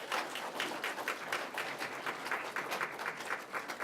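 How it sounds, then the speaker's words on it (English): Steady applause from a crowd at a county 4-H awards program honoring a hippology team, many hands clapping continuously at moderate loudness throughout. "Let's have a round of applause."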